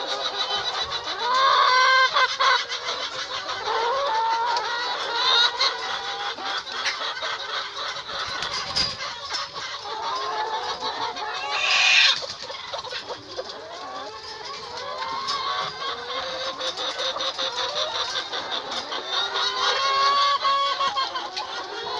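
Hens in a free-range chicken coop cluck and squawk continuously in a dense, close flock chorus, with one brief louder squawk midway and a steady background of fowl chatter.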